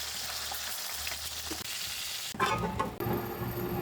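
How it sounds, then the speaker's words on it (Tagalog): Tilapia frying in hot cooking oil, a steady close hiss and crackle that turns louder and busier halfway through as fresh spattering breaks out. "start na tayo sa pagluluto ng isda"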